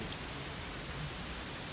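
Heavy rain pours steadily outside a mini camper van, a dense, even hiss with no breaks or voices.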